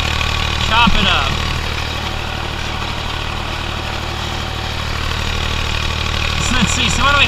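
A tractor pulling a Multivator cultivator through sweet corn in second gear, a steady loud engine drone with mechanical rattling from the implement, running continuously and close by.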